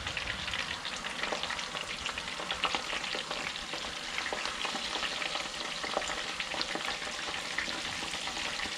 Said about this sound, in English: I'll go ahead and drop my fish in, and I'll let the jalapenos continue to fry in there.